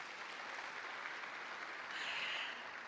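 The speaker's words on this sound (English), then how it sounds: "Another round of applause for the great man." Conference audience at a deep tech summit opening applauding steadily, a dense even wash of clapping that swells slightly near the end, heard from within the hall.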